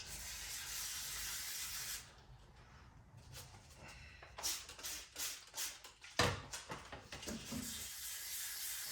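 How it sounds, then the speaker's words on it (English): Several short hissing bursts from a spray bottle, close by, following a steady hiss that cuts off, with brief rubbing in between, during headlight restoration on a Lexus GX470. "Give it a little bit of the spray."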